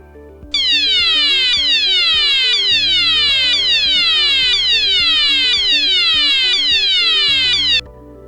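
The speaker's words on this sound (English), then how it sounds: "To hear what the alert sounder sounds like, I've asked one of my colleagues to activate the toggle switch on the EVAC-ALERT panel." A C-TEC EVAC-ALERT evacuation alert sounder activated from its panel, blaring a loud, steady repeating pattern of rising-falling whoops, about seven cycles in a row, with no talking over it.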